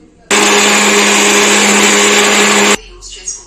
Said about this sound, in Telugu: ఇప్పుడైతే ఇది మిక్సీ చేసేస్తాను